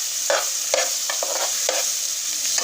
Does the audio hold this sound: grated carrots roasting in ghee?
yes